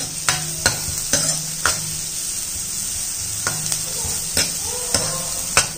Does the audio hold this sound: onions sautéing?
yes